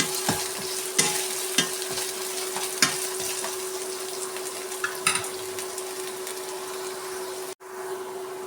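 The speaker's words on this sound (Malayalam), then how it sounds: "നന്നായി വഴറ്റി കൊടുക്കുക." Ginger, garlic, onion and curry leaves sizzle steadily in hot oil for chicken fry, with scattered stirring scrapes and clinks over the constant frying hiss, then a brief cutout near the end.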